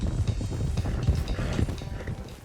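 Horses' hooves clip-clop in Red Dead Redemption 2, with a dense, continuous patter of several animals trotting close by on dirt, and no talking over it.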